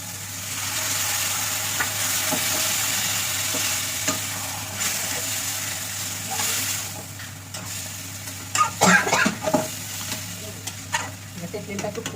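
Lentils (dal) added to a sizzling frying pan while cooking muri ghonto with a katla fish head: a steady hiss of frying with stirring, then a burst of scraping spoon strokes against the pan near the end.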